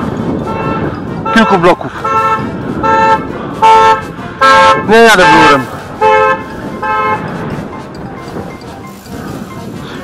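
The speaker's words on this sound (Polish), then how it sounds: "Jakaś pizda na mnie jeszcze trąbi." Car horns honk repeatedly in traffic in Mississauga, Ontario, a series of loud toots of varying length, with one warbling blast, heard from inside a moving car over road noise while someone talks on the phone.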